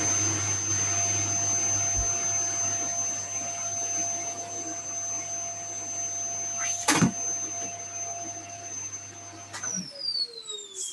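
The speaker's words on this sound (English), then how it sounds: "As soon as I turn the vacuum cleaner on" A vacuum cleaner runs with a steady whine and hum, then a thump and a falling tone near the end as it shifts or winds down.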